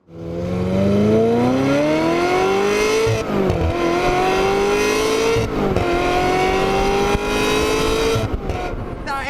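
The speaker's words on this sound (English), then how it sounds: "still probably my favourite sounding engine, or one of them, this 355 engine" A high-pitched Ferrari 355 Spider V8 engine revs hard through several rising gear pulls, each ending in a quick shift, loud and close throughout.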